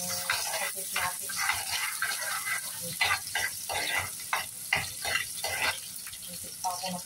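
Ingredients sauté in a hot pan for squid adobo, a crackling, watery sizzle with scraping stirs close by, steady throughout.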